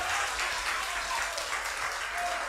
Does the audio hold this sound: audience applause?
yes